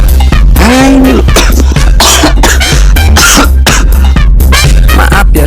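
A man coughs repeatedly after choking on coffee, a run of harsh, forceful hacking bursts close to the microphone, interspersed with throaty breaths and strained vocal sounds.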